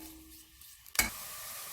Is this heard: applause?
no